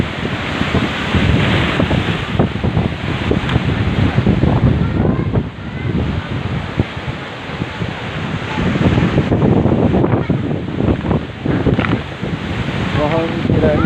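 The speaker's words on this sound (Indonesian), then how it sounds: "Kita mengalami ribut dari jam 12 malam sampai saat ini masih dalam keadaan ombak yang" Storm waves crash and strong wind roars at sea off a coastal village after a night-long storm, with large surf. The dense, continuous wash of water and wind buffeting fills the whole span, loud and steady.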